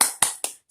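Four sharp hand claps ring out in a quick, even rhythm during a teacher-led cheer clap in an elementary lesson, each one crisp and close with a short decay.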